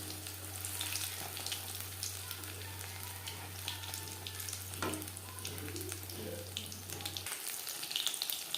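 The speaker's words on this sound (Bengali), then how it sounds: "তিন চারবার উল্টে পাল্টে মিক্সি করে ভেজে নিয়েছি তেল ঝরিয়ে" Fish butter fry cooking in oil, a soft continuous sizzle with faint crackles, fairly quiet and close, alongside a steady low electrical hum that stops near the end.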